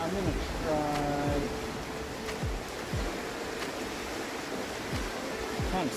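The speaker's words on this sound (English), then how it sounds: "It kind of stinks that the water's running this hard." Fast, hard-running river water rushes steadily as a broad, constant roar with no gaps, and a low hum plus a few brief knocks ride on top.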